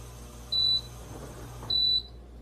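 Two short, high electronic beeps from an electric pressure cooker's control panel as its timer is raised, about a second apart, over a faint steady hum, with no talking.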